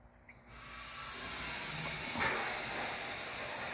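Air hisses from an air compressor line as it feeds front airbags being installed on a 1978 Chevrolet C10 Squarebody pickup, starting abruptly and holding as a steady, close rush of escaping air.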